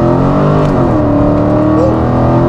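A Dodge Challenger TA 392 launching hard on wet pavement for a 0-60 run, its V8 roaring loud and close as it climbs steadily through the revs with a brief shift dip, with a voice faintly underneath.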